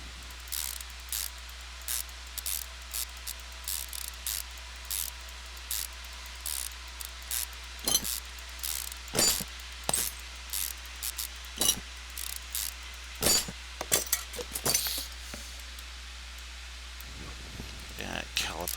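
Repeated ratchet clicks in short bursts while a bad brake caliper is taken apart in Car Mechanic Simulator 2015, moderately close over a low steady hum, with occasional speech between them.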